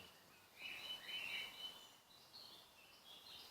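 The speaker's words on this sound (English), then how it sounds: "Oh, the birdies are gorgeous." Songbirds sing faintly at dusk in May, with a few thin, high chirping phrases far off in an otherwise quiet evening.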